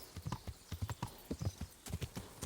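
Horse hooves clip-clop at a steady trotting rhythm in the video game Kingdom Come: Deliverance, close and fairly quiet, each beat crisp and evenly spaced.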